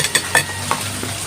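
Seasoned fish sizzles as it fries in a pan, a steady close crackle broken by a few sharp clinks of a utensil against the pan.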